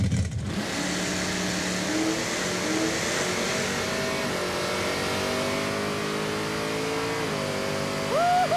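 A Pontiac Firebird drag car launches hard and accelerates down the strip, its engine roaring in a sustained, rising wail that holds steady and loud throughout, with no voices over it.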